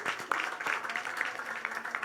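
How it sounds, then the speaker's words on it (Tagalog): A church congregation claps for God during a worship service, a lively stretch of scattered and overlapping hand claps with voices murmuring underneath, moderately loud throughout. "minsan pabigyan natin si Lord ng pinakamalakas na palakpak"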